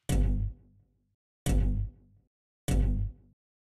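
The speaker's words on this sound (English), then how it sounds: "I got and added some distorted kicks like this guy." Three heavy distorted kick drums, evenly spaced about 1.3 seconds apart. Each is a loud, booming hit with a gritty, saturated tail, made for an electronic track, and each hit sounds alone with silence between.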